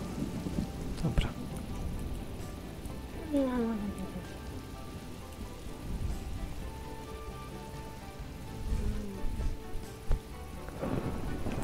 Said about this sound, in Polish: Słyszysz, gościu, jak grzmi?